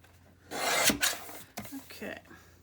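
A folded paper journal page being trimmed, with two or three close, dry rasping cuts and slides of paper, each lasting under a second with brief pauses between.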